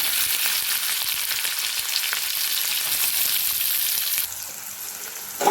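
Onion and green chillies frying in hot oil for dal tadka, a loud, close, steady sizzle that drops somewhat near the end as the pan settles.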